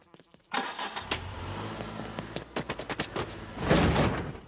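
In an animated Family Guy scene, a car runs over something, heard as a close engine and a series of thumps and knocks, with a louder rumbling surge near the end and voices partly over it.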